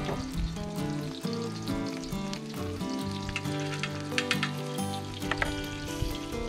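A 50-day dry-aged ribeye sears in clarified butter on a Skottle, giving a dense, steady, close sizzle and spatter with scattered crackling pops throughout.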